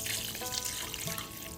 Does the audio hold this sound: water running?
yes